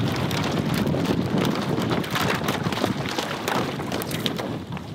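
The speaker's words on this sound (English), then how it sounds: "There's some hellacious wind, man." Strong, steady wind buffets the microphone during a cold fishing trip for brown trout, a dense, continuous roar with gusty swells and no talking.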